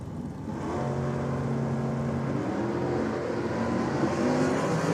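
At a 2023 drag meet, a 1969 Chevrolet Camaro and an XY Ute launch hard off the line, engines roaring loud and rising in pitch as they accelerate away together, with no voices.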